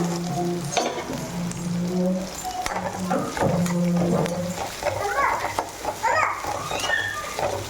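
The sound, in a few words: sliced onions and green chilies sautéing in a pan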